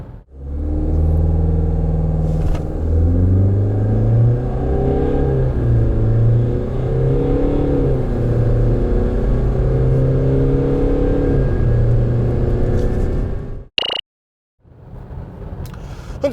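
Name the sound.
Renault QM6 (Koleos) 2L diesel car accelerating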